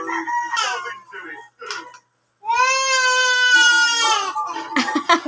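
A rooster gives a long, loud crow up close, preceded and followed by shorter squawking calls and some vocal sounds.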